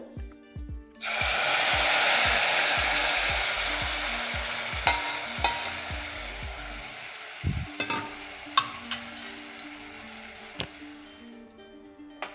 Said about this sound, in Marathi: लगेचच आता आपण ही टोमॅटोची जी पेस्ट करून घेतलेली आहे ती घालणार आहोत